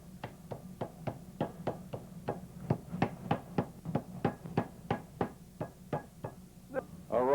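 Chicken breasts being pounded flat in a kitchen, about two dozen steady, evenly spaced thuds falling quickly one after another, moderately close and with no talking.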